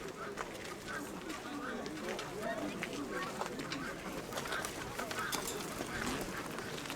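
Soft cooing of pigeons and assorted bird calls from a flock at a town fair in Berdychiv, with ducks quacking faintly among them over a constant low background murmur.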